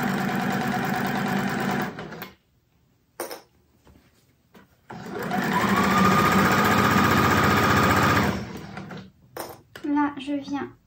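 A sewing machine stitches forward after a short backstitch while a Japanese-style rice bag is sewn, running steadily in a couple of bursts, the longest lasting several seconds, with quieter handling sounds between.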